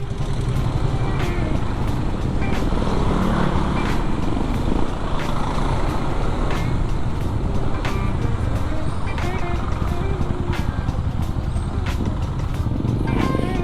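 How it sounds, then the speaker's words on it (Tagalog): Congested road traffic with trucks, cars and buses rumbles steadily and loudly throughout, with engine drone and occasional sharp clicks and knocks from nearby vehicles. "Ayan na, traffic na."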